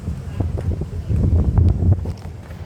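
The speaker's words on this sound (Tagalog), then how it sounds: "Hangin, hangin, hangin." Wind buffeting a microphone, steady low rumbling gusts that swell louder midway, with faint background voices.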